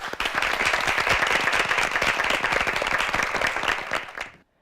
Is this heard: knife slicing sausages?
no